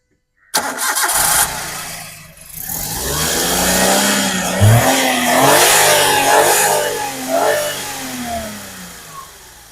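A Maruti Suzuki Alto 800 engine cranks and catches after a brief silence, then settles into a running idle with a couple of small revs, close and clear with no talking.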